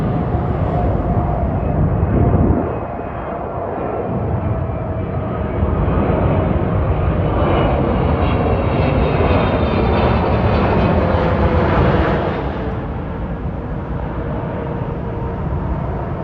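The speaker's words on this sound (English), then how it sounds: "Approaching now is a United Arab Emirates or Emirates Airlines 777 from Dubai, United Arab Emirates to JFK" An Emirates Boeing 777 airliner on approach to JFK, flying from Dubai, roars loudly and steadily overhead as a broad jet engine rumble that swells and then eases off slightly toward the end.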